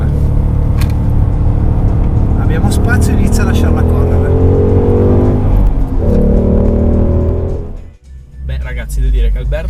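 A Ford Mustang 5.0 V8 roars around a race track, engine note rising and shifting through gears close up, then dropping off abruptly before revving back; a voice talks over it.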